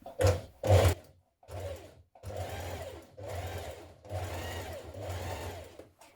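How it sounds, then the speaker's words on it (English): Domestic sewing machine understitching a sweatshirt pocket seam, two quick loud bursts followed by several longer steady whirring runs separated by brief pauses, close and clear with no talking. "now we're going to understitch it a few millimetres away from this seam here"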